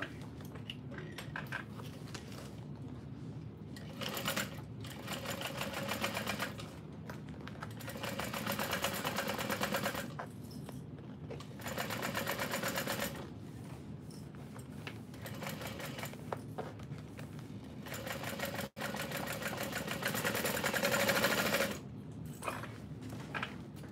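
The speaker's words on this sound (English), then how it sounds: "I'm gonna sew that together, stitch length of four." A domestic sewing machine stitching the lining of a bowler bag at stitch length four, running in several sustained bursts of steady whirring separated by short pauses, close and clear with no talk.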